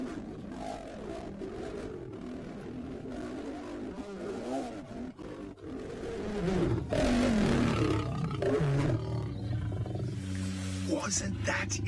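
Male lions in the Masai Mara, four older coalition males confronting a young male trying to join, roar and snarl loudly and close by for the whole stretch, growing more intense in the second half with deep, layered, overlapping roars.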